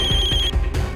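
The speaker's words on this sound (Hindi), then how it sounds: "फोन उठाओ" A telephone trills with a bright electronic ring, one burst followed by a short break, loud and close in a TV crime drama scene.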